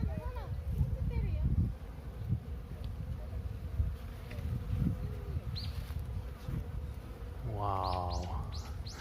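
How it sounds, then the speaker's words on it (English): Bees buzz around blooming cherry trees on a sunny day in Tokyo, a constant close drone with birds chirping now and then and a person talking over it. "there's so many bees here. Everything is buzzing."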